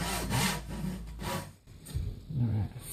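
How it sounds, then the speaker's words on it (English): A hand saw cuts through wood in steady back-and-forth strokes, close and fairly loud, with a brief pause partway through before sawing resumes. "I slow down and I'm getting better with sawing."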